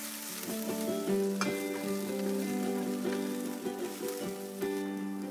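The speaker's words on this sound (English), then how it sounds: "Mushrooms and broccoli. Saute for 2 to 3 minutes." Mushrooms and broccoli sauté in a pan with a steady sizzle, broken by light rhythmic clinks and stirring knocks, plus a faint tonal hum in the background.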